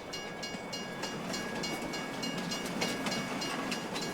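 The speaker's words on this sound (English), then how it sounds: "Here's our train right here." A rented train passes in Farming Simulator 22, a steady rolling rumble with faint rhythmic clatter of wheels over the track, continuous at moderate level with no voices.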